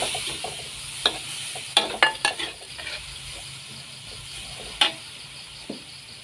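Dried chilies fried in a pan for a spicy Thai beef basil stir-fry hiss steadily after water is added. Sharp clicks and scrapes from stirring break in irregularly, with a few louder knocks of the utensil against the pan.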